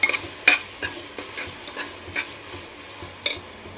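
Chopped tomato frying in masala for chole, a soft steady sizzle under repeated stirring strokes and scrapes of a spoon against the pan, with a few sharper clinks, close and without talk.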